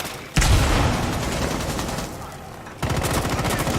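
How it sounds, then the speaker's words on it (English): Sustained automatic gunfire in a Rainbow Six Siege gunfight comes as dense, loud bursts of rapid shots. One long burst and a brief pause are followed by another burst. "Looks like Cav is in a gunfight right now"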